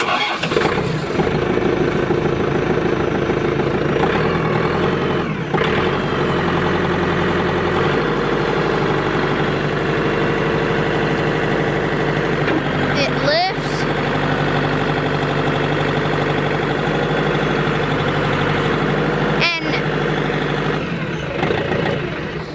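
A John Deere 4600 tractor's engine runs steadily at idle, a loud close continuous diesel drone with a couple of brief clanks and squeaks partway through.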